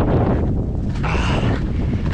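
Strong wind roars and buffets the microphone continuously, a loud rushing blast with gusts throughout and no voices.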